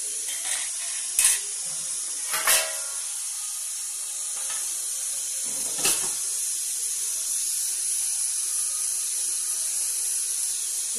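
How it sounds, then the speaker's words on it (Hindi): Vegetables frying in a pan, a continuous bright sizzling hiss with a few sharper spatters and stirring bumps, close and steady throughout. "अभी भूनेगा अच्छी तरह से, अभी टाइम लगेगा उसमें सब्जी बनने में"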